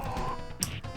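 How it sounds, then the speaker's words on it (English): A door in Final Fight on the SNES is punched and shattered, giving a single short crash, a bright burst of breaking debris cutting through continuous game music. "Doesn't even open the door, just punches it and shatters it."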